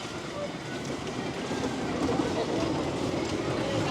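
The Racer 75 roller coaster at Kings Dominion runs past, a steady, loud, rushing roar of wheels on track that fills the whole moment.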